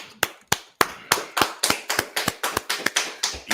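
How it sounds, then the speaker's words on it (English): Audience at a talk clapping in a steady rhythm, a series of sharp, evenly spaced claps close by that keeps a regular beat, with no talk over it. "Let's clap it up."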